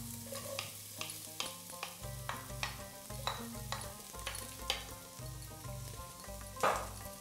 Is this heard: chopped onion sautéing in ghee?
yes